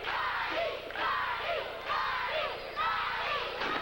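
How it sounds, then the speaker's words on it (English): Wrestling crowd chants in rhythmic waves, four loud swelling bursts of massed voices rising and falling at a steady beat through an arena. "You can hear the crowd."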